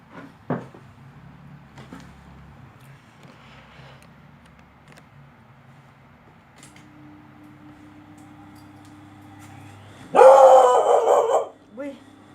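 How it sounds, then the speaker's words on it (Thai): A dog barks in a burst near the end, startled by a car pulling up and parking in front of a house, loud and close after a long quiet stretch of faint room sound and a single early knock. "รถมาจอดหน้าบ้านเห่าถ้าตกใจเลย"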